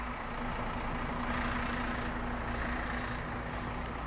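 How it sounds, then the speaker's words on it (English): A Bustech VST Mark IV bus pulls into bay 3 at Miranda Interchange and mounts the gutter, its engine a steady low drone with a faint whine, held at an even level throughout. "Bustech VST Mark IV pulling into bus bay 3 and mounting the gutter"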